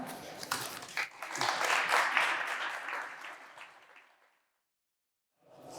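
A conference audience breaks into warm applause that swells, holds for a few seconds, then tapers off into silence before a new sound starts at the very end.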